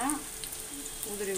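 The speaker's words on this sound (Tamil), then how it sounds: "இப்போ எண்ணெய் நல்லா காஞ்சிடுச்சு. நம்ம பகடா போட்டுக்கலாம்." Onion pakoda batter dropped into hot oil sizzles steadily, a close, continuous frying crackle with faint bubbling throughout, no speech over it.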